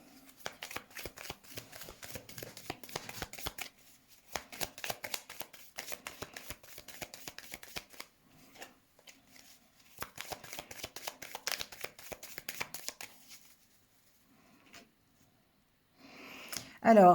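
Tarot cards shuffled by hand for a reading, soft, close riffling and tapping in irregular bursts with quiet pauses between, a louder rustle at the very end.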